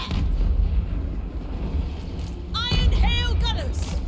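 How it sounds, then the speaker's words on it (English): Fireball spell blasting into enemy units in a Warhammer 3 Total War battle in the mountains: a steady rumbling barrage of battle noise with a burst of crackling, whooshing impacts midway, heard close and loud. "Might as well throw a fireball in on them."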